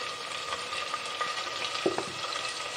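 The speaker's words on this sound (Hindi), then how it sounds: "इसको मसाले को हम भूनेंगे तकरीबन थोड़ा 5-6 मिनट भूनते हैं।" Ground cumin, turmeric, salt and chili frying in oil in a pan, a steady soft sizzle with a few light stirring scrapes, close and alone.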